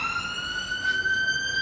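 Emergency vehicle siren wailing at steady volume with a sustained, slowly sliding tone and its harmonics, heard at moderate distance over a low background rumble near a foundry.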